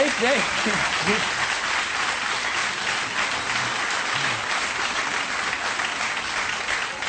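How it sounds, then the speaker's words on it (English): Audience applause fills a studio interview, a dense, sustained round of clapping from a crowd with a voice briefly speaking over its start. "I need more applause."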